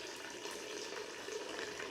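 Water flows steadily from an indoor garden-style water feature in a room of a hanbok and bojagi artist's home, a continuous close trickle and splash heard alone.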